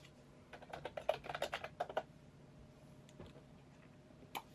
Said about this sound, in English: And we'll type in object.